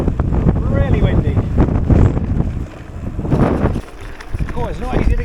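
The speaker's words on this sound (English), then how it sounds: "Really windy." Strong wind buffets the microphone while riding a Grizl gravel bike on a bumpy, rocky track, a loud rushing roar with gusts that dip and surge, and someone speaks briefly over it.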